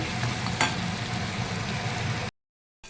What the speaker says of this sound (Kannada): ನೀಟಾಗಿ ಲೋ ಫ್ಲೇಮಲ್ಲೇ ಫ್ರೈ ಮಾಡ್ಕೊಂಬಿಡೋಣ ಒಂದು 5 ನಿಮಿಷದ ಕಾಲ